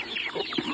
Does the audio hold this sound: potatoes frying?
no